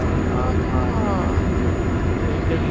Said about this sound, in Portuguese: Um avião pegando fogo ali.